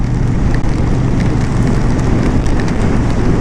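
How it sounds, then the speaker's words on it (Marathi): Rain pours during a ride along a hilly route, a loud, dense, unbroken wash of noise mixed with rushing wind and road rumble, with no talking. "मग परत लावला कॅमेरा आणि जस्ट परत पाऊस चालू झाला"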